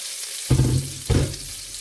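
Meat cutlets fry in a pan, a soft steady sizzle that swells in two brief louder bursts, close and without talk.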